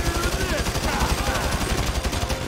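Rapid automatic gunfire in a Grand Theft Auto V shootout during the Paleto bank heist, a dense continuous rattle of repeated shots with shouting voices in the background.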